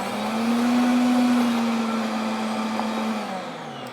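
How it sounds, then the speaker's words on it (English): A blender or food processor runs steadily while blending homemade hummus, a loud continuous motor whir with a strong low hum that holds for several seconds, then begins to slow and wind down near the end. "so that they don't get stuck on the sides of the blender or the food processor"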